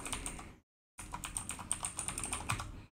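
Someone types an email address on a computer keyboard with quiet, rapid key clicks in two bursts separated by a brief pause, close to the microphone and without speech.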